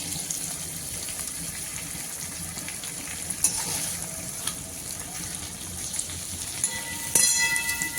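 Hilsa fish pieces frying in spiced oil with turmeric and salt, giving a steady hissing sizzle with occasional sharp clinks and a louder burst of spatter near the end.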